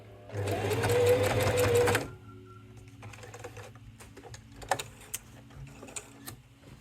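A sewing machine runs in one loud two-second burst of rapid stitching while sewing reverse around a fabric plant pot holder. Quieter clicks and handling noises follow after it stops.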